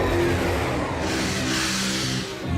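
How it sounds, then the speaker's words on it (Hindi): Rumbling mechanical roar of the Slugterranean Express train inside a cartoon cave, a steady loud engine-like drone swelling and easing over a few seconds. "ये तो स्लगटरेनियन एक्सप्रेस है, और ये इस गुफा में क्या कर रही है?"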